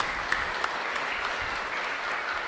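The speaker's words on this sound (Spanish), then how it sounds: "un fuerte, más aplauso para ella entonces" Brief applause from a parish congregation during a Mass at San Miguel Arcángel church in San Lorenzo, steady clapping with a few sharper individual claps standing out.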